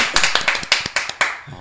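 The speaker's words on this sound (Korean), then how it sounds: "박수 한번." A few studio guests clap on a radio talk show, a brief scatter of sharp, separate hand claps at close range, fairly loud, with no talking over them.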